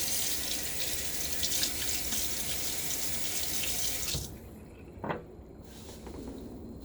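Water runs steadily from a bathroom tap into a sink while a razor is rinsed under it, loud and close, then cuts off abruptly, followed by a brief clack and faint drips.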